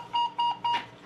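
Telephone ringing tone on an outgoing call sounds as three short, evenly spaced electronic beeps, clear and close with no voices.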